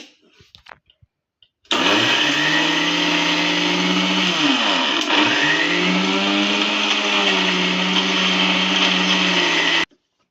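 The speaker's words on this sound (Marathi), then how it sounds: "मिक्सरला आपण बारीक करून घ्यायचं" An electric mixer grinder whirs loudly as it grinds fresh coconut chutney, starting abruptly after a few soft clicks, holding a steady high-pitched motor drone with a brief dip in pitch midway, then stopping sharply.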